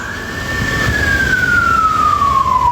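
A fire truck siren wails past on a California street, loud and continuous, its pitch gliding steadily downward as it goes by over low traffic rumble.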